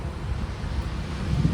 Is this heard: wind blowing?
yes